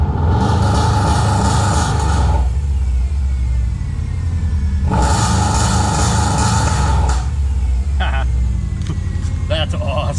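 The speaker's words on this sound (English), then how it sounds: "cycle the key and start it up and see" Rally car engine started with a launch limiter set, running loud and close as a steady mid-range rumble with two bursts of harsher revving, alone without talk.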